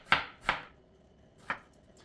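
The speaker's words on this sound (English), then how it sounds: "You ready to start chopping some strawberries?" A knife chops the green tops off strawberries on a cutting board: three crisp, close thuds with pauses between, the last after a longer gap, with no talking.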